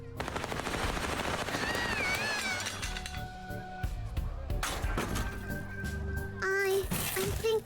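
Rapid gunfire in the game Little Misfortune, bursts of shots with shattering glass over music and a voice, someone talking along at times.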